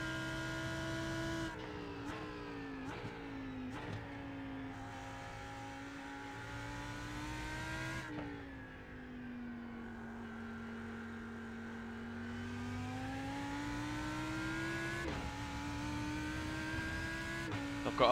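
Lamborghini GT3 race car engine in the iRacing simulator, a steady loud drone that rises through the revs with quick gear changes and brief dips, heard from inside the car with no speech.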